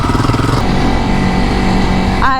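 A dirt bike engine runs steadily throughout while riding a bridle track, with a continuous, loud motor drone and mild shifts in pitch, and a brief rising whine near the end.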